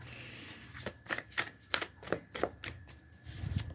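Tarot cards being shuffled by hand in a quiet room, a run of crisp riffling bursts and soft flicks that come in a steady rhythm, close and fairly faint, with no speech over them.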